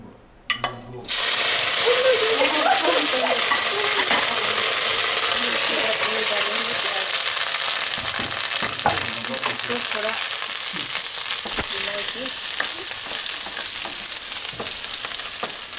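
Onions hit hot oil in a pan in a Ladakhi home kitchen and burst into a loud, close, continuous sizzle with occasional stirring scrapes and clinks, while voices talk faintly underneath.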